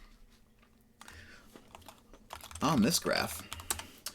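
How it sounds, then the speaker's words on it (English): A quick burst of close clicks on a computer keyboard, getting louder and busier partway through, with a person speaking briefly over the keystrokes. "I'm just going to sort of type this in here"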